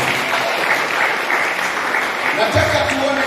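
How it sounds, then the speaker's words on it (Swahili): A church congregation claps for Jesus, dense sustained applause from a crowd filling the room, loud and continuous, with voices mixed in underneath toward the end. "Chapie Yesu makofi mazuri"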